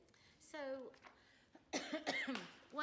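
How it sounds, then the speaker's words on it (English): A person coughs a few times, the harsh bursts mixed with brief throat-clearing and voiced sounds, close to the microphone amid quiet conversation. "I'm never going to get rid of this cough."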